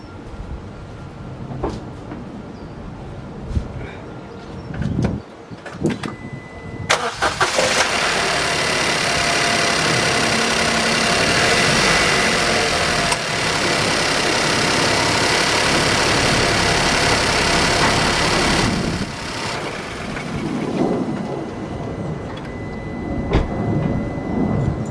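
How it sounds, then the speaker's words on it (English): A Suzuki Boosterjet 1-litre three-cylinder car engine starts after a spark plug change, with a sudden burst into a steady, loud idle that holds for about twelve seconds before settling lower. Clicks and handling noises come before and after. "then we'll start the engine up and make sure it's running okay"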